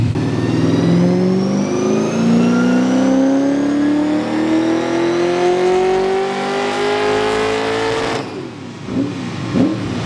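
A loud race car V8 engine fitted with silencers revs up smoothly and climbs in pitch for several seconds, muffled slightly, then drops off abruptly near the end.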